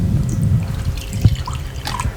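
Vinegar poured from a glass into a pan of water in a kitchen: a close, trickling pour with soft drips and splashes, steady at first with a small clink midway, no talking.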